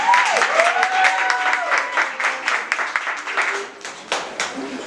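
An audience claps for an introduced guest, a scattered burst of applause that thins out over a few seconds, with voices and whoops mixed in.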